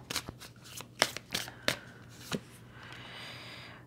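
Tarot cards being shuffled and drawn, a series of crisp riffling snaps at uneven intervals, close and moderately loud, fading into a soft sliding rustle at the end.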